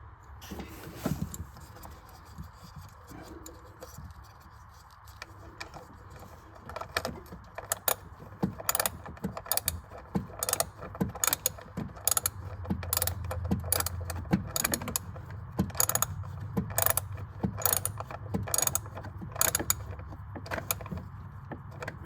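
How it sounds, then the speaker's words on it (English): A socket set ratchet wrench tightening parts after an engine coil replacement on a 2012 Honda Odyssey: rapid bursts of metallic ratchet clicks, close and sharp, repeating in uneven runs over faint mechanical handling noise. "socket set wrench. So we're going to use that to tighten things into place"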